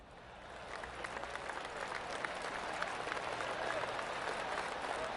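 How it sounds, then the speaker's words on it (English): Golf crowd applause from PGA 2K25 at Pebble Beach, a soft, scattered patter of many hands clapping that builds slowly and holds steady, heard from a distance. "I can hear the golf claps around the course."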